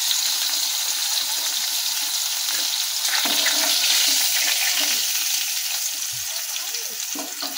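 Capsicum pieces frying in oil in a home kitchen, a continuous loud crackling sizzle with occasional stirring, heard up close with no talk.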